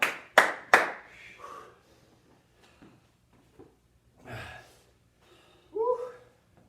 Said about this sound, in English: 2 high fives, 2 COVID claps